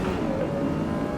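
A fast race car engine drones steadily in Assetto Corsa EVO, a brief, constant mid-pitched roar with no talking.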